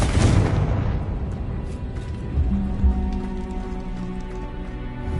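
A Confringo fire spell detonates in Hogwarts Legacy: a sharp, loud burst at the start decays into a low rumble, then a few lighter thumps sound over sustained background tones.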